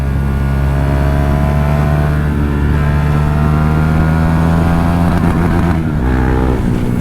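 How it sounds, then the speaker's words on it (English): A KTM 390 Duke single-cylinder motorcycle engine revs hard to its rev limiter, a loud, close, continuous buzzing drone that climbs slightly and holds high, with no voices. "Sorry, KTM, about the rev limiter."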